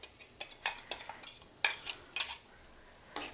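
Blended tomato paste tipped into a cooking pan for tomato rice, giving scattered utensil clinks and scrapes against the pan, faint and close, with no talking.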